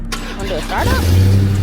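A Dodge Hellcat starts close by, turning over and catching into a deep, loud, rumbling idle, with a voice speaking briefly over the start.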